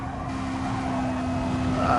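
Race car tyres squeal under early throttle in a racing video game, a steady engine drone with a rising screech near the end, close and alone.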